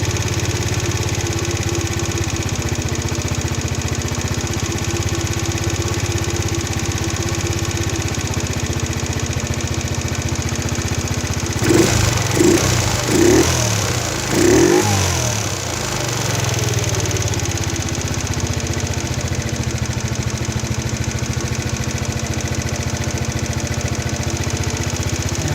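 A small four-stroke Chinese 139QMB/GY6-type scooter engine idles steadily and close up during carburettor tuning, with a brief burst of revving in the middle before it settles back to a smooth idle.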